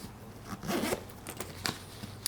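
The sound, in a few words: zipper on golf bag pocket being zipped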